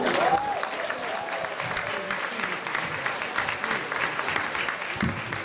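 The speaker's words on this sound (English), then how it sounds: "Will we also please give a round of applause to Representative Coleman?" A crowd applauds a state representative at a church gathering, a steady, even wash of clapping from many hands at moderate distance that lasts throughout, with a faint voice or two under it.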